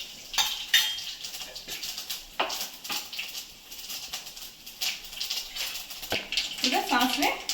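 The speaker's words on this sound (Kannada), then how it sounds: "ಈಗ ಸಾಸಿವೆ ಸಿಡಿತಾ ಇದೆ." Mustard seeds spluttering in a pan of hot oil for a tempering, giving irregular sharp pops and crackles close by over a faint sizzle, with a brief voice near the end.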